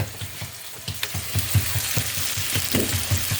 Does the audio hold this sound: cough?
no